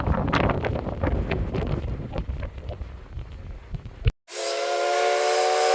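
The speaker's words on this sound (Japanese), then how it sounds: "渓谷を抜ける風が強くなってきたな。" Strong wind gusts roar through a river gorge at Kamui Kotan in Hokkaido, heavy buffeting rumble against the microphone that cuts out abruptly and gives way to a steady high hiss.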